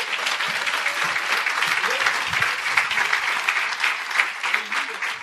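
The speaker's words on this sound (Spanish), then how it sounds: "Te puedes dar un aplauso a ti mismo" A church congregation at a Spanish-language service applauding themselves, loud sustained clapping from many hands with a faint murmur of voices underneath.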